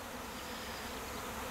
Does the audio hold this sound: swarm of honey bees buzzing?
yes